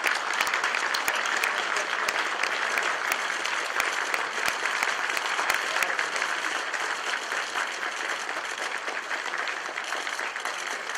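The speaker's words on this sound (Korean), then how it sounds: "모두 큰 박수로 맞이해 주시기 바랍니다." An audience in a lecture hall greets Democratic Party presidential candidate Moon Jae-in with steady, dense applause, loud and even from start to end, with no speech over it.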